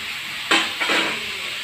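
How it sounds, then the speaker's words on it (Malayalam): Chopped capsicum frying in a pan, a gentle sizzle with two quick scrapes of a spoon stirring it. "നന്നായിട്ട് ഇളക്കി കൊടുക്കുക"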